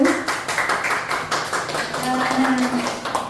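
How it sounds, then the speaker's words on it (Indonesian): Applause from teachers and participants at an Indonesian school workshop on positive culture, a steady patter of hand claps rising and falling for a few seconds, with some voices mixed in. "Tepuk tangan dulu"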